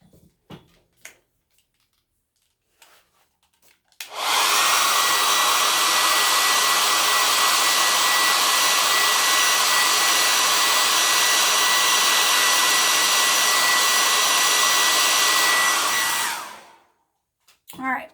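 Hair dryer blowing on a craft transfer, a loud steady roar switched on after a few quiet seconds, running evenly for about twelve seconds before shutting off.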